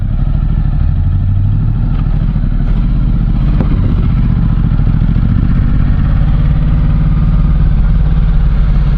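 A Ducati Multistrada 1260 GT motorcycle engine runs steadily and loudly throughout, a continuous low rumble with faint clatter and no voices.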